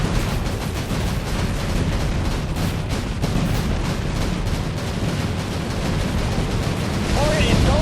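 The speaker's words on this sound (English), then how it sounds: "We are coming under enemy fire!" Dense, heavy gunfire and explosions pound a ship in the naval combat video game Battlestations Midway, a continuous rumbling barrage with voices calling out over it.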